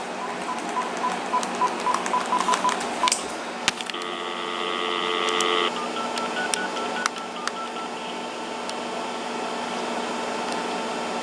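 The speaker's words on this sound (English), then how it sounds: "let's go ahead and try to test out the Farmer Jones hotline on the first handset" A Uniden TRU8885 cordless handset dials out in DTMF, a quick run of short, clipped tones followed by a longer sustained tone pair, then quieter line noise with occasional clicks.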